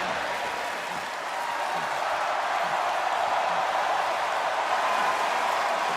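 A capacity crowd in a wrestling arena roars and applauds during a triple threat match, a steady broad wash of cheering and clapping that holds at even loudness across the whole stretch without letting up.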